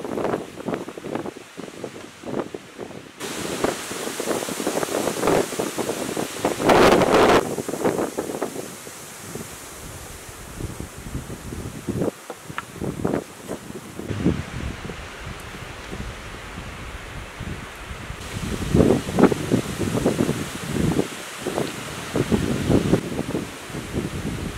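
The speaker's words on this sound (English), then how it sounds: "wind is really strong out there and it actually blew my camera over" Strong wind batters an outdoor camp with a wood burner, roaring in gusty, uneven waves of broadband rush that swell loudly and ease off, with no voices.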